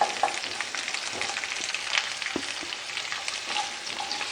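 Capsicum stir-fried in a pan over a high flame for a Chinese-style chicken almond dish gives a steady, dense sizzle throughout, broken by a few soft scrapes and knocks of the spoon, with no talking.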